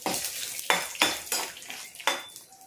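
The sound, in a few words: stirring roasted chana dal in oil in a pan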